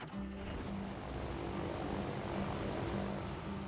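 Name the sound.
aeroplane flying past in the video game Poly Bridge 2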